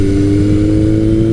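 A Kawasaki KZ1000 chain-drive motorcycle engine revs hard and steadily, a loud, close, continuous mechanical drone with strong low harmonics and no pauses.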